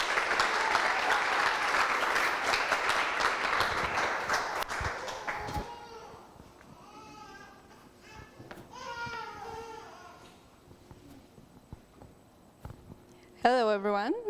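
Audience applause at a coding bootcamp demo day greets a student project team, loud clapping for about five seconds before dying away as voices talk over quieter room sound.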